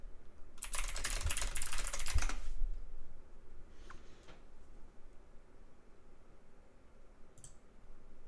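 Typing on a computer keyboard during a gaming stream: a quick, close burst of rapid key clicks lasting about two seconds, followed by a few isolated taps in otherwise quiet room tone.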